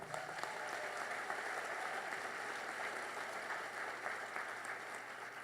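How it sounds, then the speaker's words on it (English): A small audience applauds steadily at an environmental call-to-action event, the clapping faint and a little distant, a smooth even patter lasting several seconds with no voices over it. "Let's give them a round of applause."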